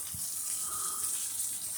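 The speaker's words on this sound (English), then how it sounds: "Whole Foods has a new water feature." Water running and splashing from a water feature inside a Whole Foods store, a quiet continuous hiss with a faint flowing tone, heard steadily and without voices.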